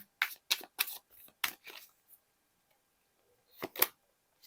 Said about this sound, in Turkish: Şu kılıç dokuzuna bir kart alacağım.